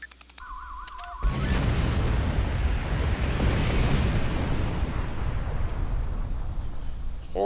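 A bomb detonates to blow up a rock in the Star Trek Online video game. Electronic beeping tones give way to a sudden loud explosion and a sustained, rumbling roar that fills the rest of the moment.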